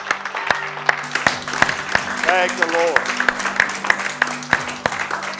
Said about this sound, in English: Give the Lord a big hand clap this morning.